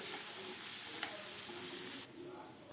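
Potato bhaji is stirred in a pan, a soft, close sizzle with faint scraping, steady and quiet until it drops away abruptly near the end.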